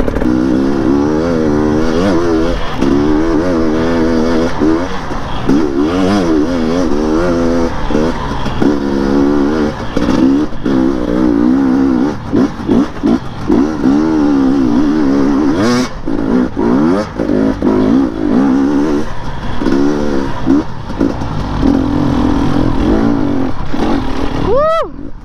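A brand new motorcycle is ridden on a rough trail, its engine revving up and down close by in wavering pulses, with occasional bumps and a voice speaking over it.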